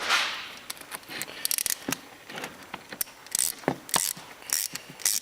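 Rapid ratcheting clicks from a tool working a hose clamp on compressor plumbing against a barb fitting, close and sharp, coming in irregular bursts with metallic rattles between.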